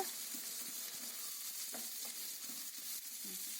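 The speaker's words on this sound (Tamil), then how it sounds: "வெங்காயம் நல்லா வதக்கி விடுங்க. பூண்டு போட்டுடலாம். ரெண்டும் சேர்ந்து நல்லா வதக்கி விடுங்க." Onion and garlic frying in a pan for moringa leaf chutney: a soft, continuous sizzle with light stirring clinks and scrapes, fairly quiet and steady with no voices.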